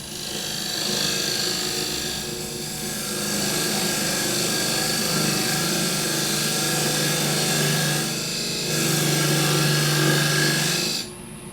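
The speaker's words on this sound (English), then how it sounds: "Our parting tool, going to go in at an angle to give me that dovetail" A parting tool cutting an angled dovetail into a spinning wood blank on a lathe, a loud continuous scraping hum with slight swells as the cut deepens, ending abruptly as the tool is withdrawn.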